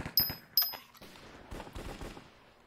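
Sawed-off shotgun fire in a Minecraft mini game, with two sharp close blasts in quick succession followed by softer irregular thuds and game noises, brief and loud with no voices.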